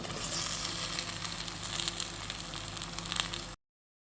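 Chopped okra goes into a pan of frying onions, giving a steady, fairly soft sizzle with faint crackles that runs for a few seconds and then stops abruptly.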